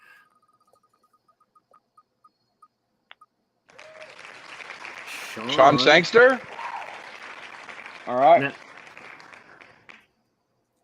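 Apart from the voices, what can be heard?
applause during a live cigar event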